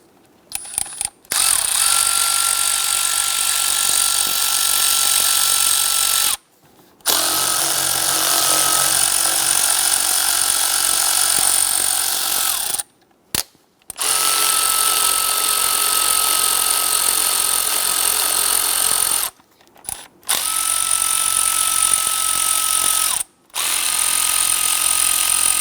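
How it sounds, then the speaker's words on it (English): A power driver with a T25 Torx bit loosens valve cover screws on a 2011–2021 Jeep Grand Cherokee 3.6L V6, running in four long, loud whirring bursts separated by brief silent pauses, close up and without talk. "We're going to use a T25 Torx bit. Loosen and remove these screws."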